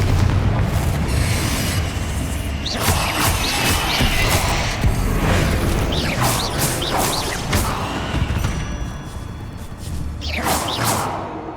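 Repeated Confringo and Bombarda spell blasts in the Hogwarts Legacy video game: a steady stream of booming explosions, whooshes and crashes layered over game music and effects, loud and continuous throughout.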